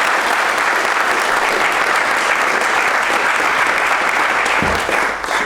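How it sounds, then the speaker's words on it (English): A loud, dense round of applause from a crowd at a research challenge winner announcement, sustained and unbroken throughout, with no voices heard over the clapping. "I would ask everybody else just give this group a round of applause"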